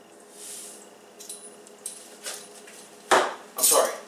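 Spoon stirring salt into ingredients while cooking wild game ribs, light scattered clinks and scrapes at first, then two louder, sharper clattering scrapes near the end, close and dry with no talk.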